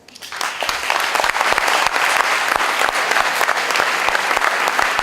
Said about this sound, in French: d'applaudissements.